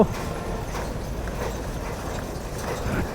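Horse hooves from a horse-drawn carriage clip-clop in a steady trotting rhythm on a road, moderately close, over constant traffic rumble.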